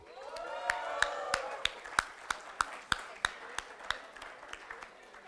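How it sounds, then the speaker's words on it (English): A small audience at a marketing conclave prize announcement claps in sparse, evenly spaced hand claps, a dozen or so sharp hits over a quiet room, with a faint voice or tone at the start. "Guys, please keep on applauding."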